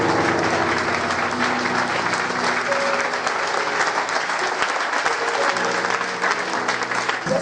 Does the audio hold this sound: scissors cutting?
no